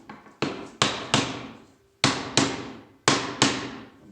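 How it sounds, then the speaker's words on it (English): Wooden mallet striking a wood block held against a bench workpiece during a glue-up: seven sharp, close knocks in uneven pairs and singles, each ringing out briefly, with no talk. "I'll use my wood mallet for that."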